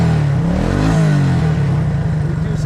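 Bobcat 863 skid steer diesel engine revving up close, a steady low idle rising into a brief throttle climb and settling back, loud and continuous with no talk over it.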